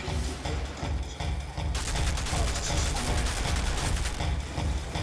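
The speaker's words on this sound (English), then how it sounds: "I'm just needing to shoot my way through here so I can grab ammo." Dense gunfire in the video game Outriders, sustained rapid shots and bursts blending into a loud continuous barrage with heavy low thumps, close and unbroken throughout.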